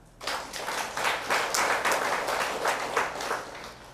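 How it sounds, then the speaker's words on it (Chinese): An audience at a Buddhist dharma talk claps together in a sustained burst of applause that starts abruptly, stays fairly even, and then begins to fade toward the end. "可以做得到的人，请鼓掌。"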